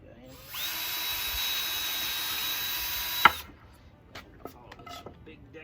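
Power drill driving a deck screw into pallet wood for an Adirondack chair, one close, sustained whir of about three seconds ending in a sharp clack, followed by a few faint knocks.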